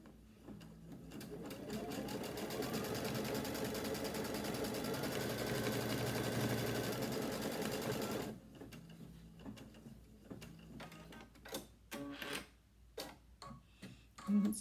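An embroidery machine sews a placement line on a heirloom quilt block. A steady, fairly loud mechanical whir with a rapid ticking needle rhythm runs for about eight seconds, then breaks into softer, scattered clicks and taps.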